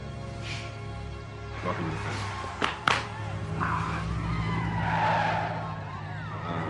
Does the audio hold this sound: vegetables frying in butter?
no